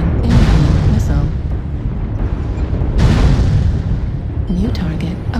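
Incoming missile explosions in MechWarrior Online, heavy booming blasts and rumbling detonations that recur across the clip at loud level, mixed with cockpit warning voice announcements.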